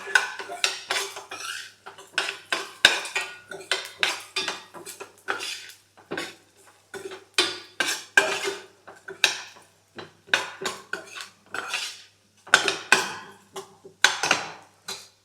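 A metal spoon strikes and scrapes a pan at a steady rhythm while mustard and cumin seeds are stirred and fried for tempering, with sharp close clinks and no talking.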